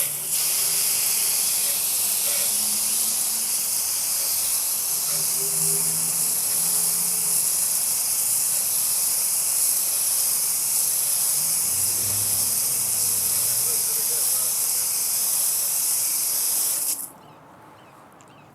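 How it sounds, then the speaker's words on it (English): A garden hose sprays water steadily over a restored 30-year-old truck wheel, a loud, constant hiss running for most of the time before cutting off abruptly near the end. "grab my hose and rinse it off"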